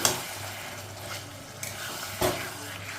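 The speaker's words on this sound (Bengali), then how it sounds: "এবার একবার ভালো করে নেড়ে নেব।" Hilsa fish head cooking with Malabar spinach and stems in a pot, stirred with a soft steady simmering sizzle and a couple of brief scraping strokes, fairly quiet and close.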